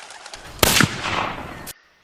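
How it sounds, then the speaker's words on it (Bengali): A single loaded gun fires with a sharp loud crack, followed by a roughly one-second echoing tail that cuts off abruptly into quiet. "ব্যোমকেশ ক্ষিপ্র হস্তে বন্দুকে টোটা ভরিয়া ফায়ার করিল।"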